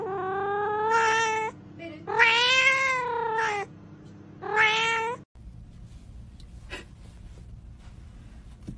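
A cat meows three times, long drawn-out loud calls close by, followed by a quieter stretch with faint background noise.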